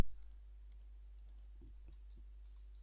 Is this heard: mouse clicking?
yes